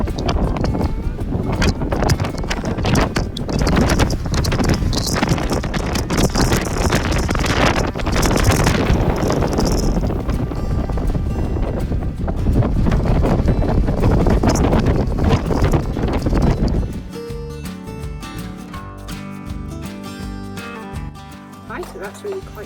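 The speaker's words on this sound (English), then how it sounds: "Boy, was it windy." Strong gusting wind at the top of Darwen Tower roars loudly and continuously against the microphone, easing off toward the end.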